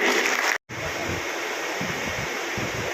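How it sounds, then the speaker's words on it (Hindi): Steady broadband applause from a crowd at a rally honouring a martyr's father, loud and continuous apart from a brief cut, with low murmurs underneath. "एक बार जोरदार तालियां उनके लिए"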